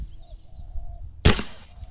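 One sharp, close snap from an Air Venturi Microstrike air pistol cuts through a quiet background and decays quickly.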